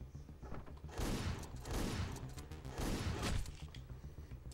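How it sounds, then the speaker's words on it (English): Shotgun blasts in Hotline Miami: three heavy, booming shots about a second apart, each with a short rumbling tail, fairly quiet overall and with no talking. "Shotgun's the only way to go."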